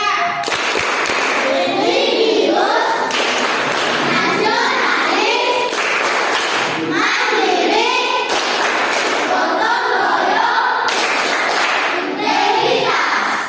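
A class of children performs the PPK clapping routine during a grade 5 science lesson, rhythmic group claps and thumps ringing out in bursts, mixed with loud children's voices chanting along.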